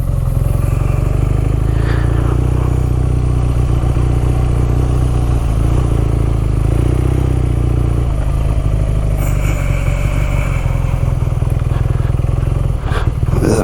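BMW R nineT motorcycle on off-road tires riding through soft beach sand, a loud steady engine drone with wind rumble and occasional clatter throughout, no talking.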